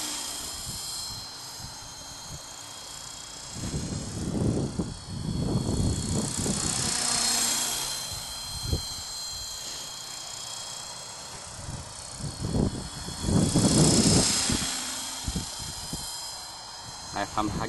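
An RC model airplane engine held at full throttle drones as a high, thin whine that swells loudly on two close passes and fades between them. A person talks in the background.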